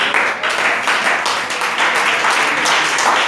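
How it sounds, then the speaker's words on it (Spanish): A church congregation at a Sunday morning service breaks into loud applause, a dense, steady wash of clapping from many hands with no talk over it. "Denle un aplauso fuerte al rey."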